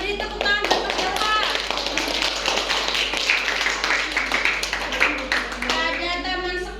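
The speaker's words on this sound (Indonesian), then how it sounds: "beri tepuk tangan buat Mas Dava" A classroom of children claps and applauds for a classmate, a steady patter of many small hands for several seconds, mixed with children's voices.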